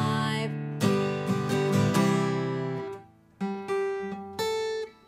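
Acoustic guitar strumming a verse line with a shift in timing, bright full strums close up, a burst of quick strokes followed by a pause and several ringing accented chords.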